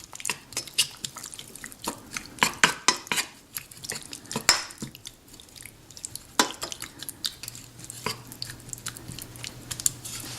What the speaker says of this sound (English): Let's stir that in, make sure the oil gets down to the bottom.